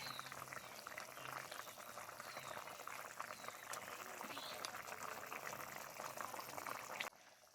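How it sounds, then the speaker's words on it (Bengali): Bitter gourd and potato fish curry simmering in a pot, giving a close, continuous bubbling hiss that holds steady for about seven seconds before dropping off abruptly. "এবার আর 2-3 মিনিট মতো ফুটিয়ে নামিয়ে নেব"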